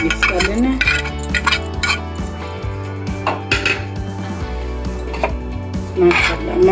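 Cooked noodles are mixed in a cooking pot, with a spoon repeatedly scraping, knocking and clinking against the metal in an uneven, busy rhythm, close up and fairly loud.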